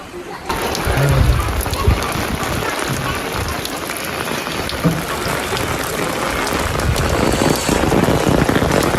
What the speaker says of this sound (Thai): ฝนยังตกเลยอยู่